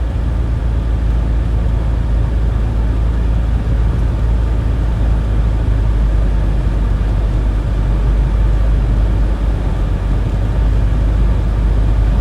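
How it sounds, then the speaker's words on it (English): Steady, loud roar of wind buffeting a car driving into a winter storm on highway M60 near Mendon, Michigan, a dense continuous rush over low road rumble with no breaks. "I can hear the wind whistling through my car as I head against it."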